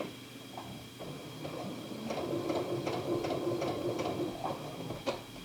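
A sewing machine stitches fabric for zippered footed pajamas with a steady mechanical hum and a quick rhythmic series of needle clicks, fairly close, with no talking.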